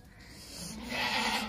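A goat bleats at a livestock market ahead of Eid sacrifice, a single drawn-out call rising in loudness over about a second, close and clear with no talking.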